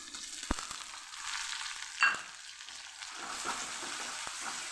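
Onions fry in a pan with ginger, chilies and garlic for a dhaba-style sweetcorn curry, a faint, continuous sizzle close by with a few sharp clinks of a utensil against the pan.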